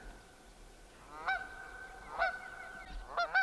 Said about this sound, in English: I just now saw the goose.